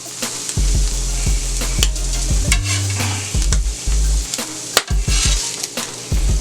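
Onions sizzling in butter on a flat top grill while an omelette cooks, a loud close hiss broken by repeated scraping and tapping of a metal spatula against the griddle.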